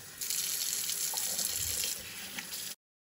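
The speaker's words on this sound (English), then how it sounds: "I'm just gonna wash with water the oxtail." Tap water runs steadily into a sink, splashing and shifting as oxtail is rinsed under the stream, then stops abruptly.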